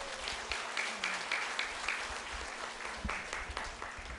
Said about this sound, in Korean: 내빈 여러분들을 항상 응원한다는 의미로 큰 박수 부탁드립니다